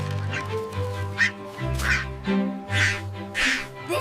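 A cartoon duck quacks in a series of short, nasal honks spaced unevenly across a few seconds, loud and close, with no other voices.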